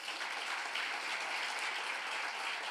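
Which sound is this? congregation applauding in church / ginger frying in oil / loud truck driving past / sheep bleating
congregation applauding in church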